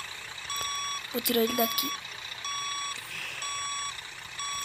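A reversing truck in a truck simulator video game sounds its backup alarm as a regular series of clear, evenly spaced electronic beeps over a low engine hum, while someone talks briefly over it.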